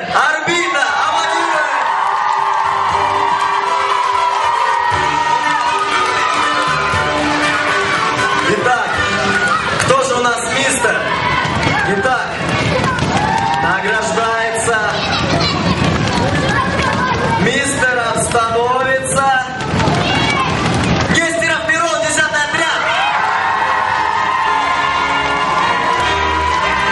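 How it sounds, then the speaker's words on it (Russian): A crowd cheers, whoops and claps at a children's pageant award ceremony at a summer camp, loud and continuous for a long stretch, with chatter and voices mixed into the noise. "Аплодируем!"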